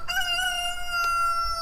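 A bantam rooster on a farm lets out a single clear, drawn-out crow, close and loud against a quiet background.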